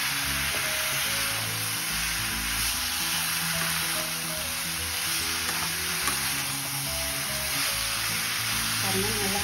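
Brinjal stir-fried in a pan for a poriyal with black-eyed beans, giving a loud, steady sizzle and frying hiss that runs unbroken throughout.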